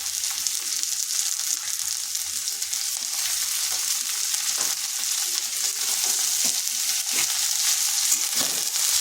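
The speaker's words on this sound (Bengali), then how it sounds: "বরবটিগুলো একটু নেড়ে নিচ্ছি," Chopped yardlong beans sizzle in a hot pan as a utensil stirs them, producing a steady bright frying hiss dotted with scraping clicks.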